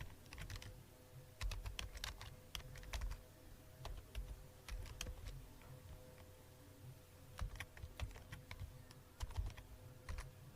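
Quick, light clicks of a computer keyboard while Visual Basic code is written, coming in uneven bursts and flurries at close range in a quiet room.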